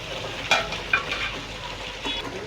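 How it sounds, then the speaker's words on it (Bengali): Chicken pieces frying lightly in oil for biryani give a faint, steady sizzle, with a few sharp clinks and stirring scrapes of a utensil in the pan. "মুরগিটা হালকা ভাজা দিয়ে নিচ্ছি।"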